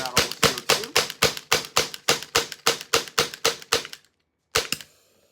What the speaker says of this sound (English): Now, what we're gonna do is we're gonna fire out all of the CO2.